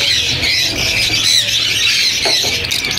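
Lovebirds squawk at the Sunday bird market in Bahawalpur, a loud, continuous chorus of shrill chattering calls from many birds with no clear break.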